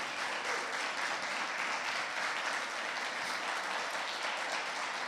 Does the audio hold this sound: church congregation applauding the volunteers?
yes